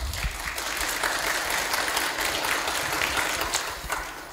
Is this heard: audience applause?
yes